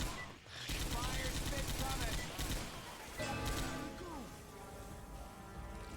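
M60 machine gun firing in Left 4 Dead 2, a dense, rapid, continuous burst of loud gunfire with mechanical clatter, briefly breaking off early before resuming.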